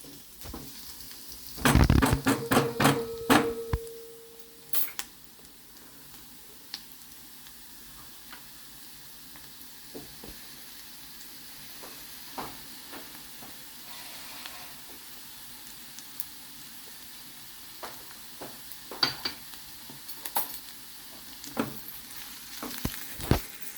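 Garlic fries in a pan, cooked until lightly pinkish for a hadga flower vegetable dish. A few loud clatters come early, then a soft, steady sizzle runs on with occasional light taps and stirs.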